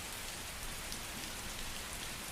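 Rain falling steadily, a dense even hiss of drops with no breaks and no voices.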